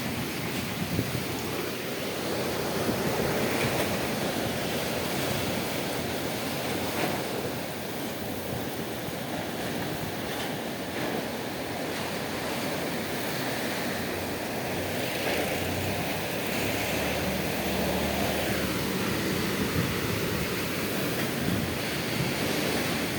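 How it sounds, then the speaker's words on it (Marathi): Steady, loud roar of wind-driven rain, a dense continuous rush that swells slightly at times without any pause or voices. "आज तर भयानकच झडप आली"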